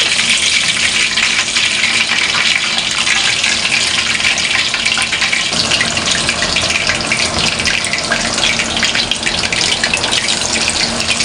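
Chicken pakora batter frying in a pan of hot oil for a wedding-style recipe, giving a loud, steady, close sizzling hiss that continues unbroken throughout with no voices.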